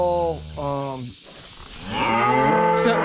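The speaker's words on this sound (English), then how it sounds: "She's bred, she's a good cow." A bred beef cow on a rainy farm moos several times in a row, loud and close, the long calls rising and falling with short breaks between them.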